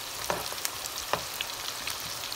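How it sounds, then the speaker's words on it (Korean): Steady sizzling of seasoned pork frying in hot oil, with a few soft pops and clinks of a utensil stirring, close by and fairly quiet. "아주 맛있게 튀기고 있어요"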